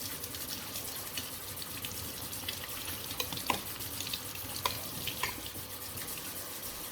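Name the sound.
scrubbing and washing equipment with detergent and water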